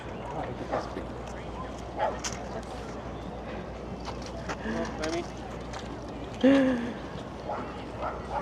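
Dogs out in Central Park, New York, give a few short, faint yips and whimpers in the middle distance, set against steady outdoor background noise and a person talking.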